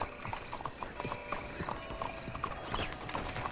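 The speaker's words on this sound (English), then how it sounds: "I'm going to get my horse" A horse's hooves clip-clop in a steady, quick rhythm in Red Dead Redemption 2, set over a constant bed of game ambience.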